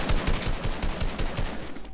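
Rapid bursts of gunfire in Fortnite Battle Royale, dense and continuous for about two seconds, with repeated loud shots crowding together like a fusillade.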